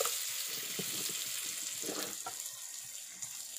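Ingredients fry in oil as salt goes in for an Assamese fish curry with tomato, a steady sizzle with occasional stirring scrapes, close and fairly quiet.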